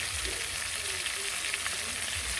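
Close, steady sizzle of onions, garlic and ginger paste frying in oil for a meat dish, a constant bright crackling hiss with light stirring underneath and no talking.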